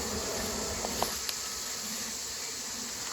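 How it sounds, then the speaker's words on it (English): Bees hum in a continuous, even drone during a late-summer swarm transfer, close and steady throughout with a couple of faint knocks, and no talking. "We definitely got bees."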